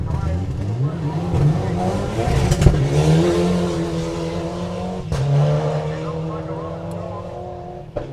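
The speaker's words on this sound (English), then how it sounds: "As Richard Bateman now comes to the start line. Richard Bateman from Blenheim in the Mitsubishi Evo 9." A Mitsubishi Evo 9 rally car idles and revs loudly at the start line of a forest rally sprint, a steady engine drone with throttle blips and gear changes, under a commentator's voice.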